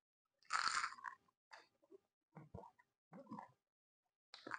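Crisp baked lumpia gets bitten and chewed up close: one loud crunchy bite, then several short wet chewing bursts separated by pauses, no talk.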